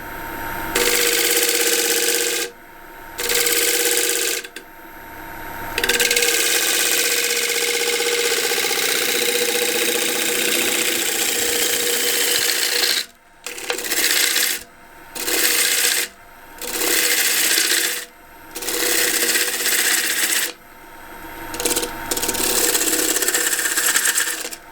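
A wood lathe spins a wooden bowl while a tool cuts its surface, making a loud, continuous whirring hum broken by repeated brief pauses as the cutting stops and restarts.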